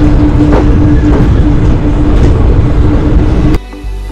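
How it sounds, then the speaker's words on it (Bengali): An evening passenger train from Agartala bound for North Tripura runs along the track with a loud, steady rumble and a faint tonal hum, ending abruptly. "ট্রেনটা ঠিক টাইমেই ছেড়েছে, দেখি কেমন যায়।"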